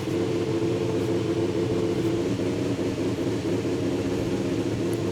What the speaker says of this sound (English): I'm going to let you guys listen to this car through this lap around.